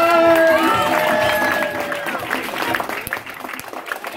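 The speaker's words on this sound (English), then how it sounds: "a big round of applause." Audience applause and cheering break out at a magic show after a trick, loud at first and fading over a few seconds, with crowd noise and a voice speaking over the clapping.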